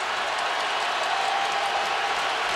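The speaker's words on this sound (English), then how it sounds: "now for the first time the crowd rises as one. Decibel level about as high as it's been tonight." A packed stadium crowd at a Bears vs Colts NFL game roaring on third and twelve, a steady, loud, broad wall of cheering and applause with no break.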